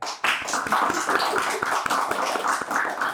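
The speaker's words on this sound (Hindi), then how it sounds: "ताली बजाए." A studio audience claps in a dense, steady burst during a trivia game-show vote, many hands overlapping into a continuous patter that holds at an even level throughout.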